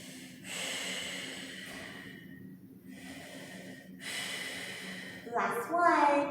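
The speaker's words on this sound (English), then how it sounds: "Just going to take 3 big breaths." Slow, deep breaths during a Pilates reverse plank, long airy inhales and exhales drawn through the nose and mouth, close and fairly soft, ending in a stronger, audible exhale.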